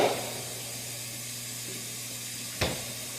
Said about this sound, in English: So while the chicken's grilling away, nice hot pan, you can see the steam coming up.